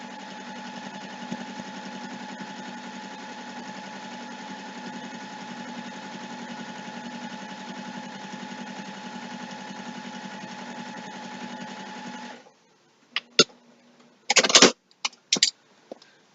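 Sewing machine running steadily at close range, stitching about 1/8 inch from the edge along a zipper bag, then stopping, followed by a few sharp clicks and handling noises.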